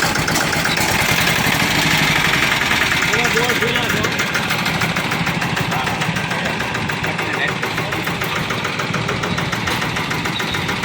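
A mini tractor engine runs steadily and loudly throughout, with a rough, knocking idle rumble and some faint background voices.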